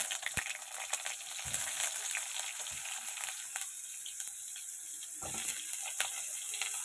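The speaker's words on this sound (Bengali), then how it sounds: "কুমড়ো, ডাঁটা, এগুলো একটু ভালো করে ভেজে নেব।" Eggplant, pumpkin and vegetable stalks frying in a home-cooking pan, giving a steady close sizzle with small crackles and occasional stir clatter, with no talk.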